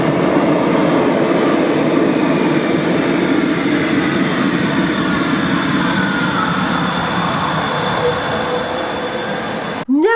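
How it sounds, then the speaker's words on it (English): A Porto tram runs fast through a metro-style underground tunnel, a loud, steady roar of wheels on rail with a faint squeal, ending in an abrupt cut. "the trams run through metro-style tunnels with underground stations"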